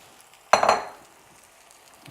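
Tomatoes dropped into a pan of frying onions for a garlic tomato pasta sauce, one sharp loud sizzle burst that fades over about half a second into quiet crackling.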